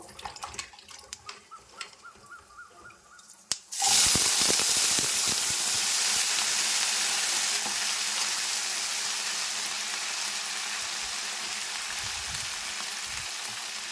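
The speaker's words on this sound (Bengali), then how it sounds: "এবার আমি সবজিগুলো দিয়ে দিচ্ছি সবজিগুলো ভালোভাবে ভেজে নেবো" Vegetables for a pumpkin and Malabar spinach mix curry drop into hot oil already tempered with chilli, starting a loud, steady frying sizzle and hiss that continues close up to the end after a quieter start.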